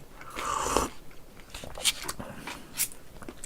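Bossam, boiled pork wrapped for eating, being chewed and bitten up close, with a few separate crunchy bites and soft mouth sounds spread over a few seconds and no talking.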